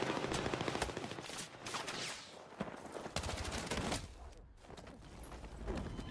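Gunfire in Battlefield 6 rattles through the whole stretch, with dense bursts of automatic fire and scattered single shots mixed into a busy battlefield din. The shots are loud and continuous, with no speech.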